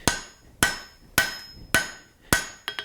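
A hammer strikes a hot steel bar on an anvil to forge a shoulder, with five loud, evenly spaced ringing blows followed by a quick cluster of lighter taps, and no talking.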